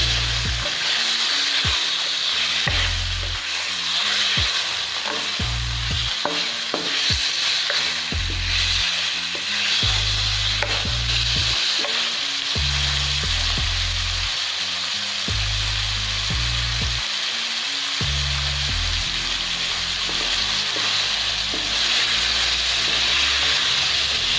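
Chicken frying in a karahi pan gives a loud, constant sizzle and hiss, with rhythmic stirring thumps and scrapes throughout and no talking.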